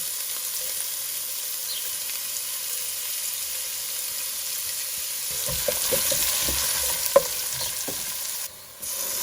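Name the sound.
onions and curry leaves frying and stirred in pan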